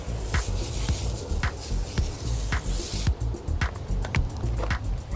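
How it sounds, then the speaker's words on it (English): A garden hose sprays water onto the front of a car in a continuous hissing rinse. The spray pulses unevenly as the stream moves over the surface, with spattering splashes close to the listener. "If you haven't got a pressure washer at home, you can quite happily use a garden hose"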